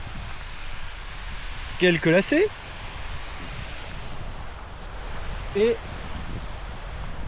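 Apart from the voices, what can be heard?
small waterfall on a mountain trail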